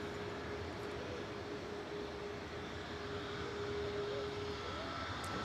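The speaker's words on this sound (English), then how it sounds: "787-8 coming in from Larnaca with flight 2439 for TUI Airways" A TUI Airways Boeing 787-8 arriving from Larnaca produces a faint, distant, steady jet drone with a thin sustained whine, unchanging throughout and heard alone.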